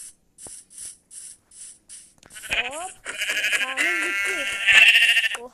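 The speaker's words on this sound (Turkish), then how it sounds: "koyun sesi" Minecraft sheep bleats, several short wavering baas one after another, with a series of quick repeated clicks before them and a voice briefly talking over the end.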